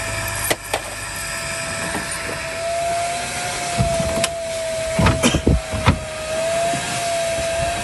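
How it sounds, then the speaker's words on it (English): A vacuum cleaner runs steadily while cleaning the interior of a 1987 Volkswagen Vanagon Syncro Westfalia, its constant whine punctuated by several sharp knocks and bumps as the nozzle moves around the van. "I love vacuuming."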